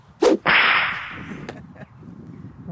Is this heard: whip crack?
yes